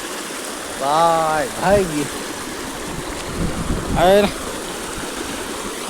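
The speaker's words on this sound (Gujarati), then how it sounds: "જો પાણી જાય ઘઘવાટા કરતો" A stream rushing over many stones gives a steady broadband wash of water noise throughout, with someone briefly speaking over it twice.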